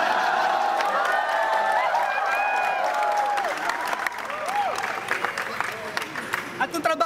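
Crowd clapping and cheering at a Filipino rap battle, a dense, steady wash of applause with crowd voices throughout, loosening into scattered claps near the end.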